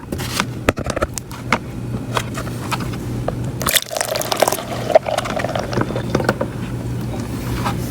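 Water poured into a container to top it up to a quart while making Zote soap laundry detergent, with splashing and trickling, a few clunks of the vessel and a louder gush partway through.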